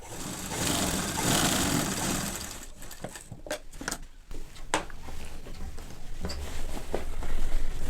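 A sewing machine stitches a French seam along a shirt side, whirring steadily at first and then giving way to clicks and fabric handling before the motor hums again.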